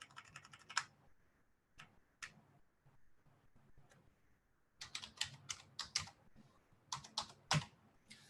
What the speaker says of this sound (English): The Skype is, let me just type it there.